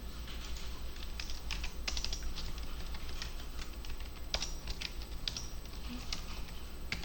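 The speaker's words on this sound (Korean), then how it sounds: "제가 글자를 좀 더 써볼게요." Text is typed on a computer keyboard with a steady patter of soft, close key clicks over quiet background hum, with no talking.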